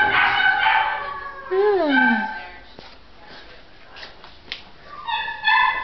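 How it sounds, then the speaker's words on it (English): Puppies yelp and let out high, wavering howls and whines, close by and fairly loud, in short bursts, at an animal shelter. "You hear that puppies?"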